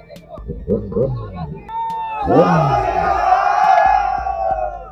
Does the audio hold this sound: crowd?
yes